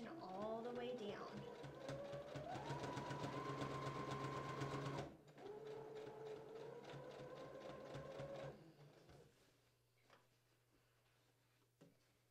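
A domestic sewing machine stitches down a dress seam in fast buzzing runs, with a brief pause midway before it resumes, then winds down to quiet handling noises and a couple of small clicks.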